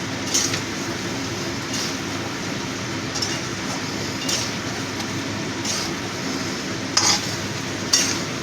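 A spice mix with poppy seeds and Kashmiri chilli powder gets stirred in a pan, a steady low sizzle carrying repeated soft scrapes of the spoon at fairly regular intervals, close and moderately loud.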